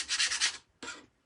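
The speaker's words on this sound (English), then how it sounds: "Paste scraping away." Paste scraper dragging across a surface in two short strokes, a dry scratchy rasp lasting about half a second, then a brief pause and a shorter second scrape, close and alone.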